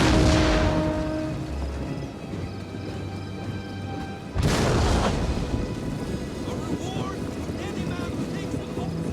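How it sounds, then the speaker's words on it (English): Artillery in a siege-versus-infantry video game fires two heavy booming blasts several seconds apart, each followed by a rolling rumble over a continuous noisy background, with a voice talking over it. "About now is when they're really in the kill zone, you know, that I can hit them with all of my artillery."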